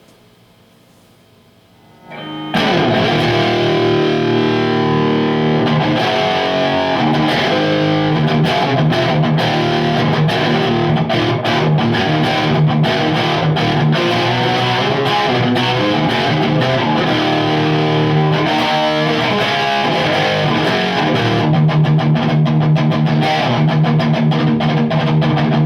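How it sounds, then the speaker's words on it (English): Loud, crunchy distorted electric guitar riffing through an overdriven Marshall JCM800 tube amp, with continuous chugging chords and bends and no voices. "just a little riffage, so you guys can hear what the amp sounds like"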